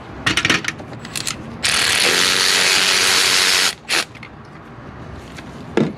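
Ratchet wrench turning a spark plug socket on a Ford 5.4-liter 3-valve engine, a steady, loud, close clicking run of about two seconds with brief ratchet bursts before and after.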